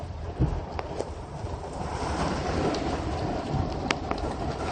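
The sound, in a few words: rain during a night thunderstorm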